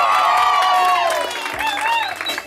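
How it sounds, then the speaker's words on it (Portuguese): A crowd at a surprise wife's birthday celebration in São Paulo's north zone cheers for Vera, with whoops and rising, swooping voices over scattered clapping, loud and close for a couple of seconds. "Uma salva de palmas pra Vera."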